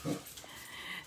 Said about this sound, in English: my crazy dogs chasing the cat actually